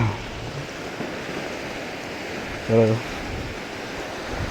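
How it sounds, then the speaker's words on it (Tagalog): Strong ocean waves surge at Panglao Island, Bohol, a steady broadband wash of surf and wind filling the scene, with a brief spoken word rising over it near the end. "Lakas talaga ng alon."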